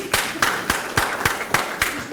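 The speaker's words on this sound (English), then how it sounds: "Can I get a hand clap on West Virginia?" An audience at a public meeting in Beckley, West Virginia claps in a steady rhythm, with seven or eight sharp, evenly spaced claps over a low crowd murmur.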